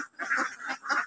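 Ducks on a duck farm quacking close by, three rapid nasal quacks in quick succession.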